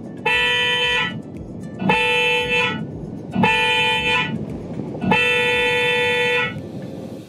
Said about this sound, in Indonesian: sudah diganti menjadi premium horn dari Auto Project yang suaranya sangat Eropa